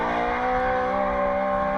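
A 900-plus horsepower Roush Yates V8 in a Spec 5D Mustang drift car screams at high revs during pro drift qualifying at Hampton Downs, a loud sustained harmonic wail held steady throughout.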